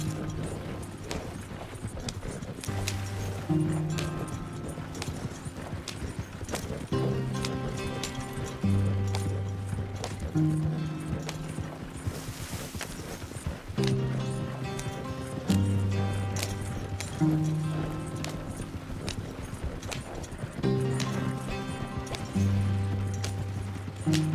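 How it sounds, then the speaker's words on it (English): Horses gallop in Red Dead Redemption 2 with quick, steady clip-clop hoofbeats throughout, heard under a repeating low musical score. "You're gonna run the horses to death."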